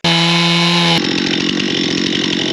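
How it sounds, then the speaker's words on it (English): A chainsaw fitted with a ripping chain roars loud and close, its engine note dropping as the chain bites into wood for a steady, gritty rip cut. "The poor old chainsaw is just quaking. Not another rip cut."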